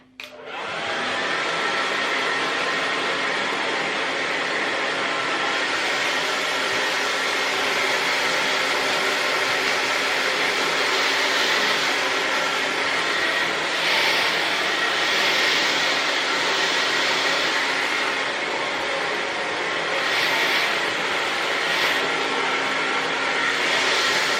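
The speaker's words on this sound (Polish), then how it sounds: "Ta suszarka robi to w chwilę." A hair dryer blows hair dry in a steady, loud, continuous whooshing roar that holds evenly from start to finish with no talking over it.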